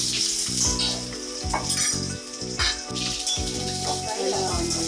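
Long-sliced onions frying in a pan, a loud, close, continuous sizzle with rhythmic scraping and clinks as they are stirred, under a speaking voice.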